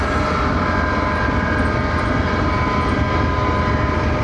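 A GE GU40 4,500 hp diesel locomotive idles at Bahawalpur station, its loud, steady, close rumble unbroken throughout.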